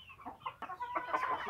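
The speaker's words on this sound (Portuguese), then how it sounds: "a galinha aqui, tá choca" A broody hen clucks in a henhouse, a short run of soft, irregular clucks and murmurs close to the listener, quiet and without talk.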